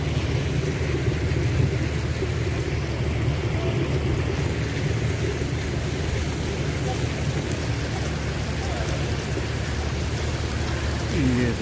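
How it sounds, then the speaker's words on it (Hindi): A fountain in downtown Dubai pours water in a constant, dense roar of falling spray that holds evenly from start to finish and sounds close at hand. "ये शोर जो आपको सुनाई दे रहा है, ये फाउंटेन लगा हुआ है मेरे साथ, उसका शोर है, पानी गिरने का।"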